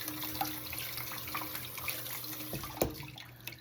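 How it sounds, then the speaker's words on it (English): Tap water runs steadily into a sink while raw chicken is rinsed under it, a close continuous splash with small knocks and one sharper clunk near the end. "So I'm gonna clean it, wash it off."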